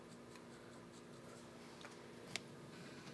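Faint scratchy strokes come from a Pilot Custom 743 fountain pen with a broad nib drawing lines on paper. A single sharp tap stands out among them over a steady background hum.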